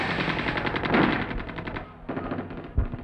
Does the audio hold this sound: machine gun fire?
yes